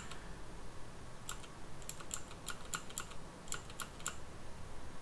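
Computer keys are pressed in short irregular bursts, crisp light clicks close by over a steady low background hiss, with no talking.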